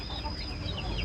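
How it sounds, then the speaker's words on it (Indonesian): A Bangkok hen about to lay an egg gives a steady run of clucking calls over a constant broad farmyard hiss, fairly close and continuous with no talk. "ayam-ayam yang akan bertelur biasanya akan mengeluarkan suara khas berkokok ayam betina atau ayam indukan"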